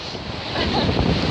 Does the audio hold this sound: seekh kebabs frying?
no